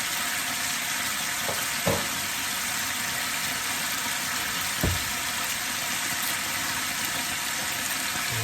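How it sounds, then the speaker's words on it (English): A chuck eye steak sizzles in a frying pan, a steady hiss of frying with a couple of brief knocks. "Gotta love that sizzle."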